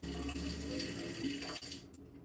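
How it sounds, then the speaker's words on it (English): Kitchen tap running water into a sink, a faint steady splashing stream that cuts off near the end. "what I was doing in the kitchen, running the water and stuff, is also louder than what's going on in the background"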